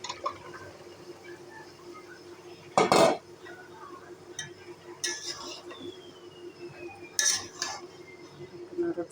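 Vegetables, including yardlong beans, are stirred into browned meat in a cooking pan: a few sharp clanks and scrapes of a utensil against metal, with quieter clinks and faint talk in between.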